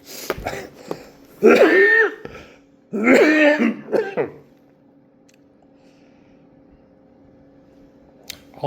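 A man with lung cancer coughs and clears his throat in two harsh, close bursts, followed by a quiet stretch with a low steady hum.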